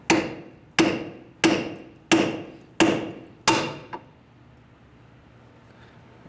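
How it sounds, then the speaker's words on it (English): Six sharp hammer blows, evenly spaced and ringing, knock a tie rod end up out of the strut bracket on a 2003-2011 Honda Element during front strut replacement, followed by a faint clank and quiet. "So we're just going to use a hammer."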